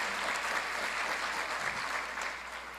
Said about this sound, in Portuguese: Você pode aplaudir ao Senhor pela pastora dessa casa?